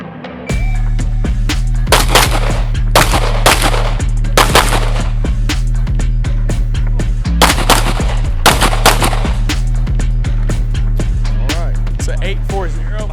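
Rapid strings of pistol shots crack out during a USPSA-style shooting competition stage, loud and close, in quick bursts with brief pauses between them over a steady low hum.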